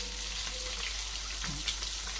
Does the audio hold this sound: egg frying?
yes